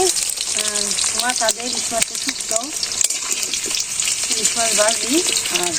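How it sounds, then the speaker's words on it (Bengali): Pointed gourd (potol) frying in a pan, a steady close sizzle beneath a running stream of nearby conversation. "পটল ভাজি দিচ্ছি"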